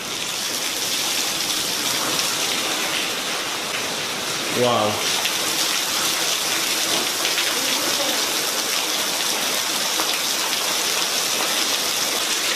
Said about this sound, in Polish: Tutaj się tak przepięknie woda po schodach leje.